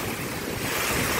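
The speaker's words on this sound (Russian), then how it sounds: "Вот это ураган." Hurricane wind roaring over a vegetable garden with water rushing, a loud, continuous broadband blast of gusting air and spray with heavy microphone buffeting.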